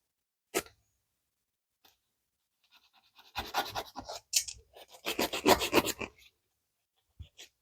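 Nail file rasping on acrylic almond-shaped nails using the coarser side, a close dry scratching in short bursts and back-and-forth strokes separated by pauses, no talking.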